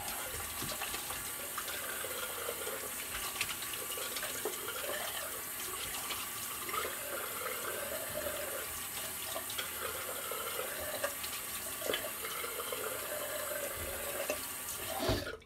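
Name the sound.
tap water running for rinse after shaving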